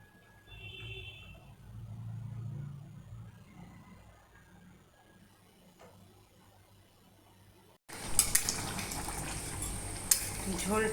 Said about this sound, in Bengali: ঝোলটা ফুটে উঠেছে, এবার মাছগুলো দিয়ে দিচ্ছি।